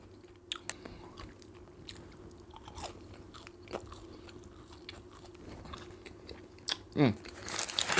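Onion rings and fries being bitten and chewed at a burger meal, with crisp crunchy bites and soft mastication noises close to the mic, a few sharp crunches scattered through and a louder burst near the end.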